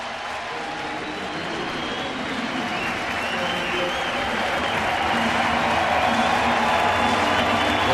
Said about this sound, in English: a big round of applause for Gordon Beckham making his major league debut in this game